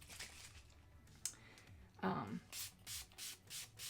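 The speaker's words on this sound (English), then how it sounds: "I want to scratch against all of the wefts." Rough scratching and rubbing strokes of a brush against synthetic wig fibers, several in a row with a steady back-and-forth rhythm, close up with no talking.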